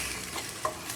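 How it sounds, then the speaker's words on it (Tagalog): Tomato, garlic and onion sautéing in a pan with browning pork: a steady broadband sizzle throughout, with two brief louder clinks or stirs near the middle and at the end. "Gigisa na natin yung ating mga ricado."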